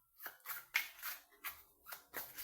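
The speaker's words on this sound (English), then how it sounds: "I am going to go ahead and shuffle a little bit more thoroughly" Several separate bursts of papery tarot card shuffling, each a brief riffle or slide, coming at an uneven pace, quiet and close with no talking.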